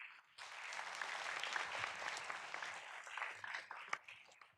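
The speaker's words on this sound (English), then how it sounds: "So that serves a round of applause." Crowd applause at a city council meeting celebrating a university's anniversary, a dense, sustained roomful of clapping that holds steady for several seconds.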